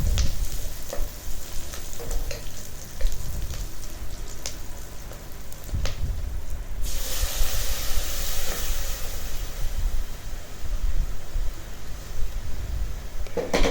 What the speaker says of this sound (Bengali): আমি মশলাটা দিয়ে দিলাম। এখন এটা কষিয়ে নিব।